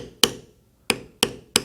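A mallet strikes a wide leather beveler while stamping a rope-style pattern, four sharp crisp taps spaced unevenly, close and clear with no other sound.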